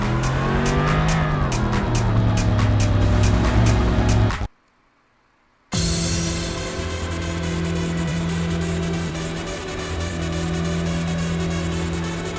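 Race cars in the video game Import Tuner Challenge roar with steady, droning engine tones and squealing tires, broken by a brief silent gap near the middle before the loud engine drone resumes.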